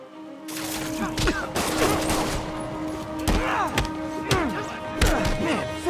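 Gunfire bursts ring out in the Spider-Man PS4 video game, several loud cracks and thuds spread over a few seconds amid echoing tonal game sound and a brief voice.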